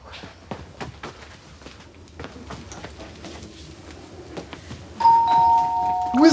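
A doorbell chimes near the end, two sustained bright tones ringing out loudly after a stretch of quieter shuffling and background noise, with no voices during the ring.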